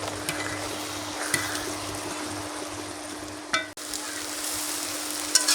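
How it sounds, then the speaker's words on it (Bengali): Jute leaves (pat shak) stirred and fried in a pan, a steady close sizzle with scraping stirs and a few clacks of the utensil against the pan, no talking. "তো বন্ধুরা দেখুন, শাকগুলো আমি আবারও নেড়ে দিচ্ছি।"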